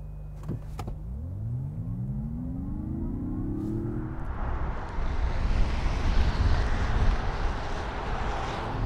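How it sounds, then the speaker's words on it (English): A 2022 Mazda MX-30 EV launches hard from a brake boost: a rising electric motor whine sweeps upward for several seconds, then gives way to loud, steady road and wind roar as the car gathers speed, with no talking. "Let's try a brake boost and see what happens."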